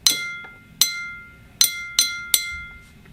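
Drinking glasses tuned as musical notes are struck to sound do and so together, five bright ringing clinks with shimmering overtones that decay quickly, spaced irregularly and heard close up without talk.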